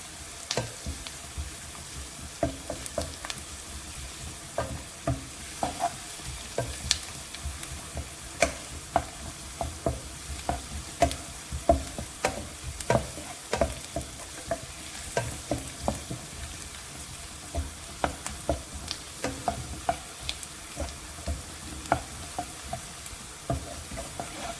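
Onions sautéing in a pan for mushroom mutter masala, a steady close sizzle and frying hiss with repeated clinks and scrapes of stirring throughout, plus some running water in the background; no one talks.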